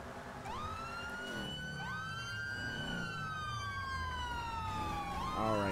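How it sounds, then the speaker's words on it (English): A GTA V police car siren wails continuously, sweeping up and down in pitch, loud and close, without any talking over it. "Light sirens."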